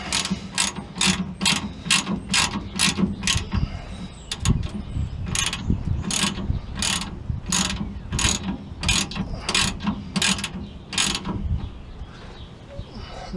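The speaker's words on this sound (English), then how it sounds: "use the axle to hold the ratchet and just start snugging" Ratchet wrench snugging a rear shock bolt on a Ford F150, rapid bursts of sharp clicking pawl strokes repeating in a steady rhythm, close and clear, with faint creaks and metallic knocks between strokes.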